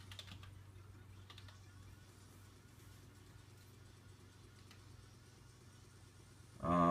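Quiet clicking keystrokes on a computer keyboard while setting up a used router, soft and close over a low background hum, ending in a sudden louder noise.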